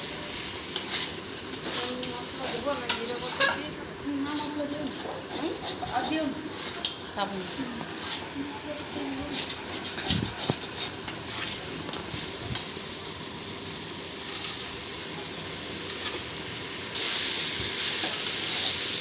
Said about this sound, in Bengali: তো মাংসটা আমার ভাজা হয়ে এসেছে